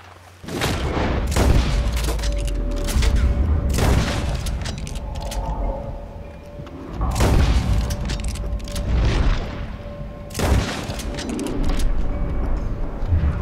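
Gunfire during a large posse fight in Red Dead Online free roam, with repeated loud booming shots in clusters, some distant reports between them.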